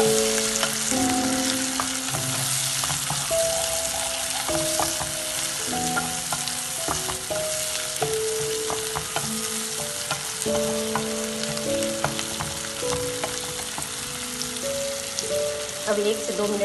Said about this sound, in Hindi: अब 1 से 2 मिनट तक इसको स्लो फ्लेम पे भूनेंगे